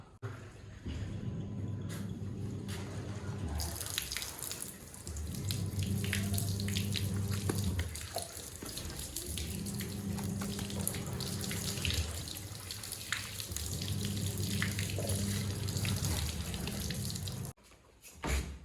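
Running water rinses dusty air conditioner filter screens, a loud steady gush that surges and eases in long stretches and stops near the end, close up with no speech.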